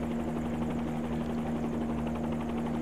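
A Robinson R22 helicopter in the X-Plane flight simulator drones with a steady rotor and engine hum and a constant tonal whine, unchanging and loud throughout.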